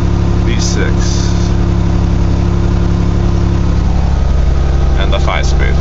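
A carbureted 1982 GMC S-15 with a 2.8 V6 and a 5-speed idles steadily and loudly during a cold-start warm-up at 35 degrees, a constant close engine drone with brief voices over it.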